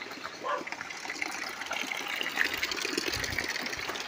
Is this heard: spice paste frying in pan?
no